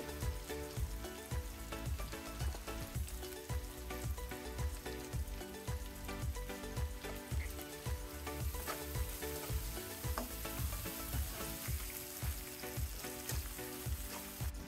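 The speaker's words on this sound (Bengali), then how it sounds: "পেঁয়াজগুলোকে আমি কিছুক্ষণ ভেজে নেব।" Onions frying in oil hiss and crackle in a pan with a steady, busy sizzle that carries on throughout, fairly faint and with no voices.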